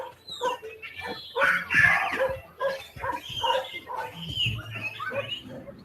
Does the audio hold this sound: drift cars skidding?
no